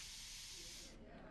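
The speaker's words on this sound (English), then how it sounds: "As it drizzles out the top, it hits this compressed column of air, and it atomizes. It goes into a spray." Compressed-air atomizer spraying watercolor paint, a steady broadband hiss close to the mic that cuts off abruptly near the end, leaving a quieter low rumble.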